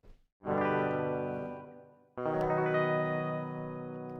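Two strummed electric guitar chords from Presonus Studio One's software strum feature ring out one after another, thick with chorus and distortion, each sustaining and slowly fading.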